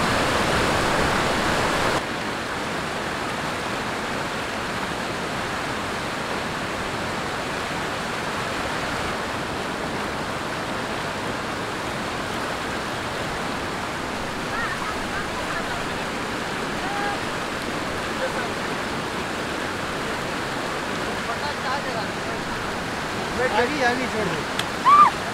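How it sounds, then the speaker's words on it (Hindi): A swollen river rushes loudly and steadily while being crossed on foot beside a nearly submerged bridge, broadband roaring water filling the whole stretch with small splashes near the end. "आते हुए पानी दरिया में कम था, जाते हुए बहुत ज़्यादा हो गया है और पुल भी डूबने वाला है।"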